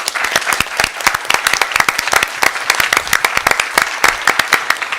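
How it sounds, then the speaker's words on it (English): Audience at a school district board meeting breaking into steady, dense applause, many hands clapping loudly and continuously throughout. "I want to give everyone a big round of applause"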